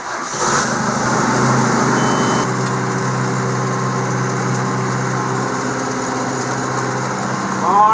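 A John Deere 5101 tractor engine runs at a steady, loud idle close by, with a continuous droning hum and a slight change in tone early on, and no talking.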